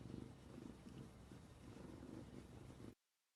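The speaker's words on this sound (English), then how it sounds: "Can you hear him purring?" A cat purrs steadily and fairly loudly up close, a continuous rumbling rhythm that cuts off abruptly into silence near the end.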